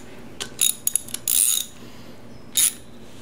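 A tool grinds and ratchets against the final drive ball bearing of a 2002 BMW K1200RS motorcycle as the bearing is pulled, giving short, sharp metallic bursts with gaps between them, close and fairly quiet.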